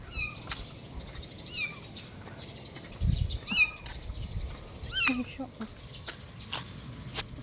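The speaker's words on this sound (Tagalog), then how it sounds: "Meron ako nakita rito mga, mga kuting." Several small kittens mew repeatedly in thin, high cries scattered throughout, close by, with a person's low voice and some handling noise in between.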